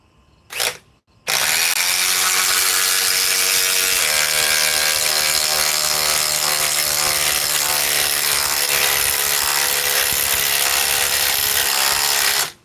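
A DeWalt 860 impact wrench drives a fastener. A brief blip comes first, then a loud steady power-tool whir with rattling impacts runs for about eleven seconds before cutting off.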